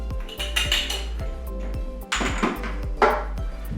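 A spoon clinks and scrapes against a bowl while tossing fresh pico de gallo seasoned with cumin, a run of close, bright knocks and rattles without speech.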